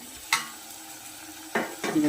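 Wild greens sizzle softly in a pan as a spoon stirs them, giving a few short, close scraping strokes over the quiet frying.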